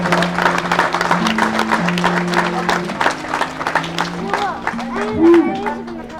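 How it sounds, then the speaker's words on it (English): Audience at an old west town show claps and cheers in steady, fairly close applause for several seconds, with crowd chatter and a voice over it. "Give him a round of applause, folks."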